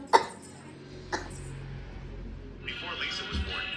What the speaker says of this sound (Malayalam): ഇത്രയും ചുമയുണ്ടായിരുന്നോ?